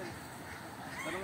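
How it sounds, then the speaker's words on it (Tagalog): Turkeys call outdoors in short, scattered gobbling bursts, close by and fairly loud, with people talking over and around them throughout. "Eto mga pabo."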